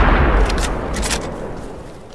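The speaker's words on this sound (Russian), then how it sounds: "Да он стреляет, это снайперка, это пипец." A single loud, close rifle shot from a sniper rifle in the survival video game DayZ, with a sharp crack and a long rolling echo that fades over about two seconds.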